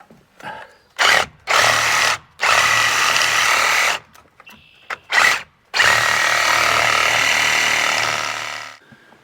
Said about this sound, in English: I'm going to get my Sawzall with the big construction blade and just saw them off when they get stuck.